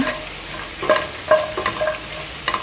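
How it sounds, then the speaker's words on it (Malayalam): Cinnamon, cloves, cardamom and black pepper roasting in melted butter in a pan: a soft, steady sizzle with a few distinct scraping stirs of a spoon, close and fairly quiet, no voices. "അതിലേക്ക് നമ്മൾ കുറച്ച് കറുവപ്പട്ട, കറിയാമ്പൂവ്, ഏലക്കൊക്കെ ഇട്ട് കൊടുക്കുക, കുരുമുളക്. ഇതൊന്ന് റോസ്റ്റ് ചെയ്തെടുക്കുക."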